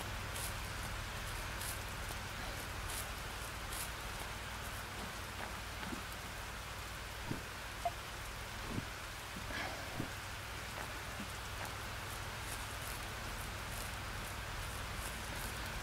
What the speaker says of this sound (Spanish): encima esta lluvia que no para